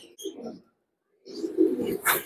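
Teddy pigeons coo in soft, low throaty bursts, one short phrase followed by a pause and then a longer rolling coo, close by with no talking.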